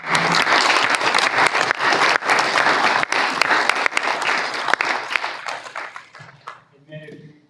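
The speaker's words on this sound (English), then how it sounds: "Let's give them a round of applause" Loud, dense applause from an audience at a special school board meeting for students honored in programming, sustained and close before thinning out and stopping, followed briefly by a voice.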